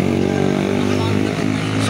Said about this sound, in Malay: motor buruk lalu